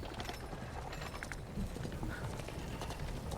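Horse-drawn carriage clip-clop effect, faint hoofbeats trotting in a steady rhythm under a rumbling background, with light clatter and no talk.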